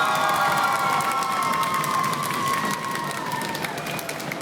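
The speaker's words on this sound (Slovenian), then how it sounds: "Dajmo en aplavz." A crowd cheers and claps loudly throughout a school quiz show, with high excited voices shouting over steady applause.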